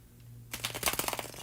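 A tarot card deck is shuffled up close: a brief burst of rapid riffling card flutters and clicks starts after a quiet hum and lasts about a second, with no talk.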